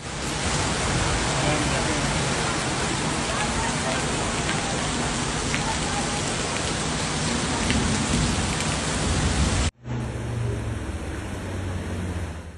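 Heavy rain pours steadily during a severe storm over the streets of Durrës, Albania, a loud, dense, unbroken hiss that cuts out briefly near the end before resuming.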